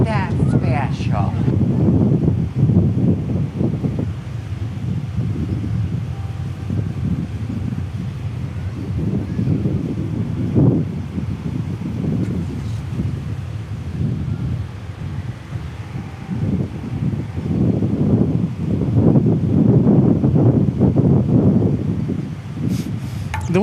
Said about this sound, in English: The wind's not horrible today. It is a south wind.